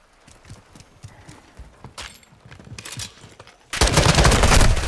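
Gunfire in Call of Duty: Modern Warfare II, scattered sharp shots at first, a few louder bursts in the middle, then a sudden loud sustained barrage of rapid automatic fire near the end, no talking.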